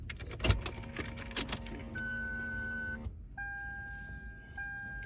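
Original key going into a Lexus ignition, with a short metallic key jangle and click up close, then steady in-car electronic chimes and tones as the ignition switches on.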